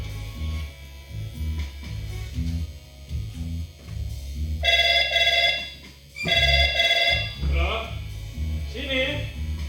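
In a Kannada stage play, a telephone rings in two loud electronic bursts over a low hum, with voices speaking around it.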